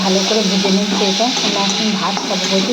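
Fish sizzles and fries in a pan with a steady crackling hiss, while a voice talks over it.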